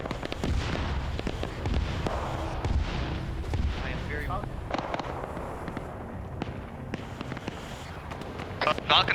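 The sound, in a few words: magazine dump of gunfire in a military video game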